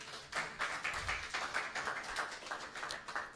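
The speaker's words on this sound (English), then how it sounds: "let's clap for him again, please" An audience at a business growth talk claps steadily for a speaker, a soft, fairly distant patter of many hands with uneven rhythm and no voices over it.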